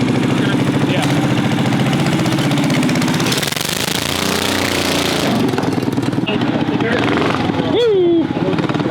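A 420cc mini bike engine fitted with a governor and throttle spring runs loud and close with a rapid chugging beat, revving and easing through the clip while a voice talks over it.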